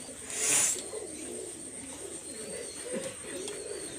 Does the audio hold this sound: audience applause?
no